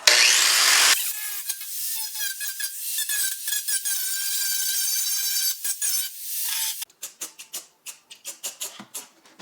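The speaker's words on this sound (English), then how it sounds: "I'm about to hit it with the grinder now just to clean up the edges" An angle grinder cleans up the edges of a car overfender on an E36, whining loudly in sustained passes, then breaking into short, choppy bursts of grinding contact toward the end.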